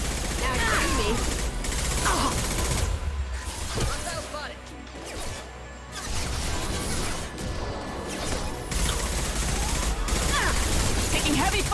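Heavy gunfire in the shooter game Mass Effect 2: dense, sustained volleys of shots and crashing impacts nearly fill the clip, easing briefly in the middle before returning at full loudness, with combat voices mixed in.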